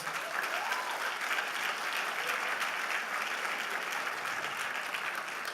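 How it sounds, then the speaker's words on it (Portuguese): Applause from a church congregation at a Portuguese-language pastors' gathering, a continuous, even wash of many hands clapping at moderate distance throughout, without pause. "É verdade, pode aplaudir Jesus."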